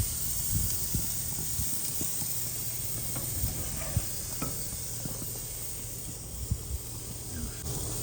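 Dry-aged ribeye steak sizzling on a grill in cold weather, giving a steady broadband hiss with scattered small pops and crackles, moderately close and continuous throughout.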